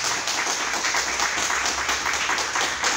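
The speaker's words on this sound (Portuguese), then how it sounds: "Vamos aplaudir Jesus, que Ele merece?" Continuous applause from a church congregation fills the space, a dense, steady wash of many hands clapping together at even loudness, with no voices standing out.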